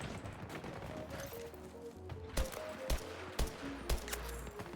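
Portal guns firing in Battlefield 6, a handful of sharp single shots spaced about half a second apart over steady background game noise, moderately loud and close.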